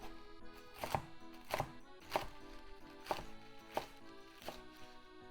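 Knife chopping bok choy into one-inch pieces on a cutting board, six or seven distinct, evenly spaced chops at close range with quiet pauses between them.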